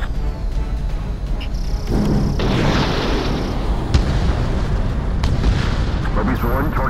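Missiles striking targets in the Ace Combat 7: Skies Unknown video game, a loud continuous rumble of blasts and roaring engines, with a few sharper bursts over the dense din.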